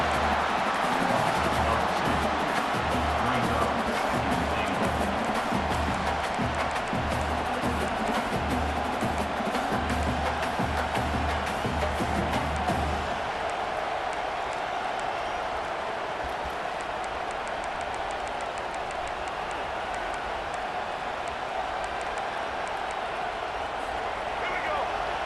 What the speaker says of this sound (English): this big crowd doing everything possible to inspire this defense down here near the goal line